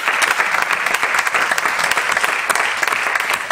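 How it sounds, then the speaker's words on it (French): Church congregation applauding during a pastor's sermon, a dense, steady wash of many hands clapping close and loud throughout, with no voices rising above it. "Oui, on peut les applaudir."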